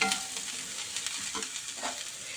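Onions and mixed ingredients fry in a little oil over a low flame for khichdi, a steady close sizzle with a few soft stirring scrapes and no talk.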